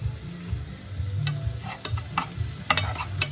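A sauce with whole silver fish is stirred gently by hand in a pot, with soft scraping and clinks over a low simmering bubble and no talk.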